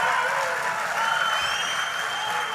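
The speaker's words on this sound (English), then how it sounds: "That was a crowd." Large crowd at a rally-like gathering cheering and applauding in a continuous, distant roar with no individual claps standing out, steady and fairly loud throughout.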